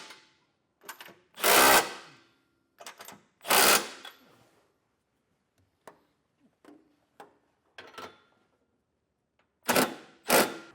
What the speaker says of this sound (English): Now using the 3/4 socket, we'll come back through and snug down our hardware.